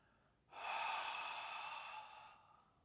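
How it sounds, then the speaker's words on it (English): One long, soft exhale through the mouth during a yoga pose, a breathy airy rush that starts abruptly, holds steady and then fades, heard close and quiet. "You can exhale out of your mouth."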